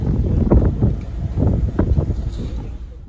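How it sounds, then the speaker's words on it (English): Strong gusting wind buffets the microphone beside a rail line, a loud, continuous low roar swelling and easing in uneven gusts throughout, with no other clear sound standing out. "Really strong wind today."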